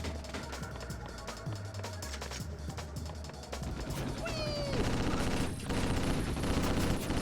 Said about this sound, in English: This rifle sounds mean.